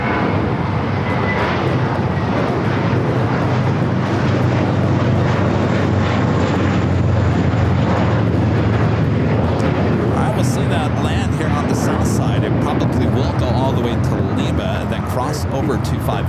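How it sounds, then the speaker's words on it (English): An Amazon cargo plane, flight 2861 arriving at LAX from Anchorage, rumbles loudly in a continuous jet roar that holds the whole time, with voices talking over it. "Oh, Amazon. Yeah. This flight coming in from Anchorage"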